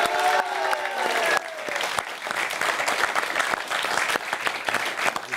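A studio audience gives lively applause for visiting lycée students, a dense wash of clapping that continues evenly throughout, close and loud.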